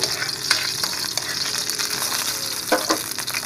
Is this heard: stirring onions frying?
yes